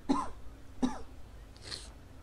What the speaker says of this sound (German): Sorry, musste gerade husten.